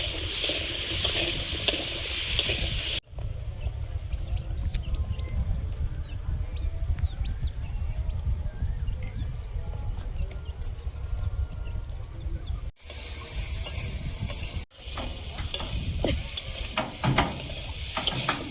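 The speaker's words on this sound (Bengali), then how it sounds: "আলুটা আগে একটু লাল লাল করে ভেজে নেব, তারপর পটলটা দেবো।" Potatoes frying in a pan before pointed gourd is added, a steady broadband sizzle running throughout with occasional stirring scrapes and two brief cuts in the sound.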